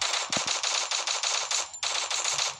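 Rapid bursts of automatic gunfire from the video game Free Fire rattle in quick repeated volleys, loud and close, with a short pause before another burst.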